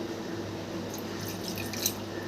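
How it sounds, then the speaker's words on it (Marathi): Water trickles and drips with soft wet splashes into a thick coriander fritter batter, over a low steady background hum. "हे थोडंसं वरून पाणी घेते याच्यात"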